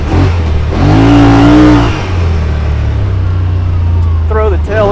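A 2021 Yamaha Wolverine RMAX2 1000 Limited Edition side-by-side surges loudly under throttle, its engine climbing in pitch, then settling to a lower, steady drone before rising again at the end.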